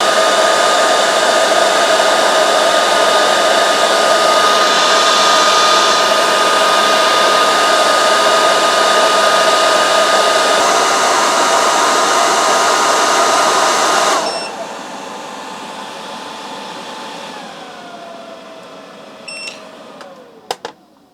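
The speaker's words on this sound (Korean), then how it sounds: "헤어드라이기를 계속해서 틀어놓고 몇 도까지 작동이 되는지도 테스트를 해왔습니다" A hair dryer blows steadily and loudly as it heats a power bank, a constant close whoosh that cuts off partway through, leaving a faint fading hum and a couple of brief electronic beeps.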